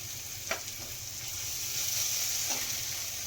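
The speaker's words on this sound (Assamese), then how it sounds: "মোৰ আদা নহৰুখিনি ধুনীয়াকৈ ফ্ৰাই হৈ গ'ল" Ginger and garlic fry in a pan with a soft, steady sizzle, a few faint clinks of a utensil, and no voices.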